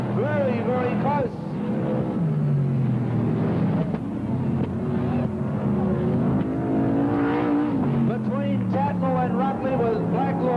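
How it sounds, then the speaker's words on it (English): 1980s sprint cars roar around a speedway track, several engines revving and shifting pitch as they pass, loud and continuous, with a commentator talking over them. "George Tatnell, leading the sprint car back markers"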